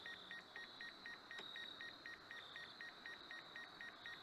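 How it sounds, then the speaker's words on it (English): Rapid, regular electronic beeping from a drone repeats steadily over a hiss of background noise at a rifle range, with a brief higher tone partway through. "plus I got this drone beeping at me."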